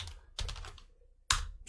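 Keys clatter on a computer keyboard while an Excel worksheet is being renamed, with quiet close clicks in two short bursts and a louder keystroke near the end.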